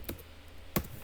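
A few light key taps on a computer keyboard, two distinct clicks about half a second apart, close and fairly quiet over a faint steady hum.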